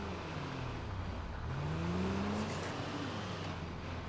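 Mercedes-Benz Sprinter van engine in GTA 5, a steady droning hum whose pitch rises and falls as the throttle is pressed, continuous and moderately loud with no talking.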